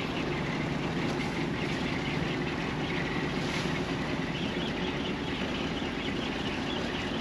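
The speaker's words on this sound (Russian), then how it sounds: "Только трактор тянет, лебедка не тянет." A DT-75 tractor fitted with a Japanese V8 engine drones steadily and loudly while pulling through a swamp, a continuous low rumble with a strained, labouring quality and no voices.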